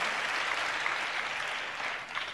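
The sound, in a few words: congregation clapping hands in praise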